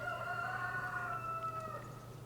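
A rooster named Silver in a cottage garden gives one drawn-out crow, clear and fairly near, that trails off before the end over a steady low background hum.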